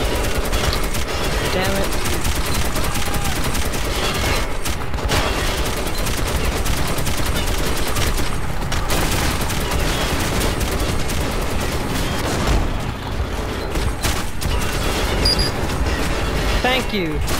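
Relentless gunfire in Metro 2033 Redux, dense bursts of automatic shots and booms filling the whole stretch, loud and close, with a voice speaking briefly over the barrage.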